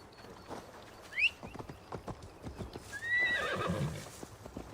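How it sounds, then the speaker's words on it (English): A horse in Assassin's Creed Valhalla clip-clops along with steady hoofbeats, then lets out a sharp whinny and a longer neigh, moderately close over faint ambient game sound. "Get up here on shore and get a horse."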